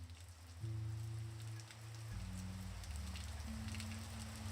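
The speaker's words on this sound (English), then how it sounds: "the weather was poor that day, with heavy rains blowing hard" Heavy rain patters faintly and continuously on a surface beneath low, sustained musical drones that shift pitch a few times.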